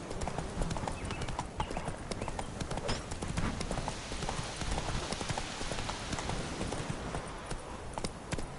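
Hooves of Roach, a horse in The Witcher 3, clip-clop in a steady continuous rhythm at moderate distance over a dense ambient backdrop.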